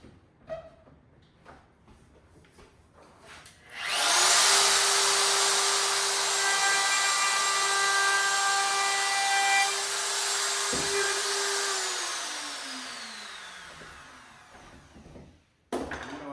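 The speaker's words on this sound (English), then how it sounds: "So I want to put a little bit of a radius on this edge, a little bit of radius on this edge. I'll use this router to do that." A router rounds over the edge of a wooden stair scroll in an 1884 house renovation, a loud steady whine starting abruptly after a quieter lead-in, holding pitch, then winding down as the tool spins off near the end.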